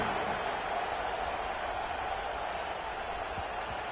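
A college football video game stadium crowd gives off a steady roar of cheering and applause, a dense, even wash of noise filling the whole stretch.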